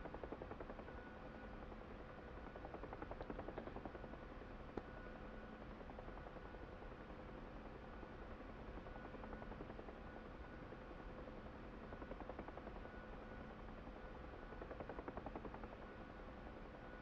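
Huey helicopter in the DCS flight simulator, a faint steady rotor drone with a low whirring hum and faint rhythmic chop running continuously throughout, no voices.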